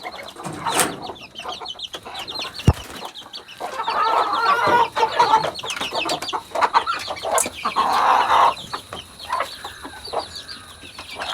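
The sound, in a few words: chickens clucking in a farm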